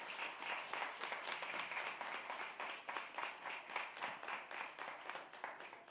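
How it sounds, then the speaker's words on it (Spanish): A church congregation claps in welcome for a visiting guest, steady rhythmic applause heard at some distance and fairly quiet, with no talk over it. "Un aplauso, ¿qué le parece?"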